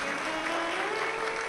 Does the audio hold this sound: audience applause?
yes